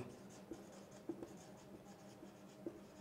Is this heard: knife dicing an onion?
no